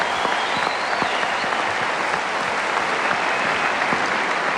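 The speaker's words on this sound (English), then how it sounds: "Round of applause for the orchestra." Sustained applause from a large television studio audience for an orchestra, steady and dense clapping throughout with no talking over it.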